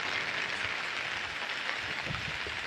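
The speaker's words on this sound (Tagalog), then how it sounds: "umuulan na sa amin" Light rain falling outdoors on a breezy morning, a soft, steady hiss of drops without pause, faint and even across the whole stretch.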